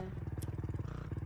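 Motorcycle in the Fortnite video game, a steady low engine chug with rapid rhythmic pulsing, fairly quiet and continuous throughout with no talk.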